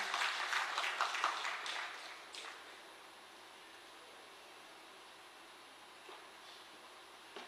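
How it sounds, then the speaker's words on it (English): Applause greets a guest called to the stage at a Women in Tech award ceremony; a burst of clapping fills the first couple of seconds, then thins and fades to faint room tone. "Let's have a big round of applause to welcome him."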